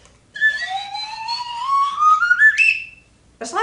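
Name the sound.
slide whistle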